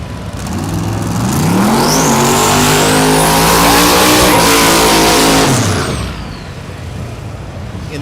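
A 1965 Ford Mustang fastback launches down a drag strip at Thunder Valley in Noble, Oklahoma, its engine roaring loud and close with rising revs through several gear changes before the sound drops away into distant crowd and track noise.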